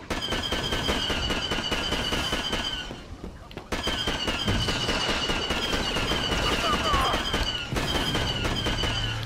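Rapid automatic turret gunfire from Star Wars Battlefront in a PS5 Classic Collection match, a dense continuous rattle of shots with a brief lull midway, loud and close, with someone talking over it.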